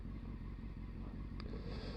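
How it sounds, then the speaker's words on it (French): Motorcycle riding on the road in cold weather, a steady rumbling engine drone with wind noise, continuous and close throughout the short stretch. "Alors vous voyez que je suis à moto"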